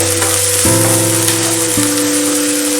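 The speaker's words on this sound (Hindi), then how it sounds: "तेल छोड़ने तक मसाले को भूनें" Masala for paneer kaliya fries on a low flame, giving a loud, close, even sizzle over about three seconds, with a steady hum beneath it.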